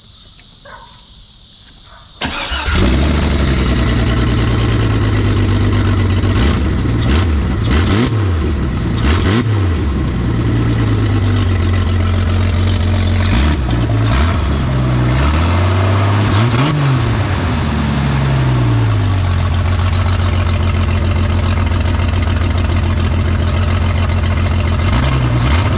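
A Jeep's newly installed engine fires for the first time after about two seconds of crickets, then runs loud and close with several revs rising and falling before settling into a steady idle.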